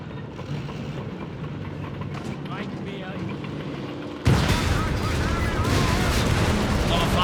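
Dense gunfire and artillery from a Company of Heroes 3 match, Wehrmacht against US Forces with Sherman and Panther tanks. A steady rattle of shots builds to a loud, continuous barrage over the back half.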